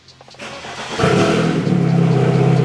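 A BMW E90 M3 V8 starts with cold start disabled: a short starter whir, then the engine catches with a sharp, loud flare and settles into a steady, throaty idle, close by.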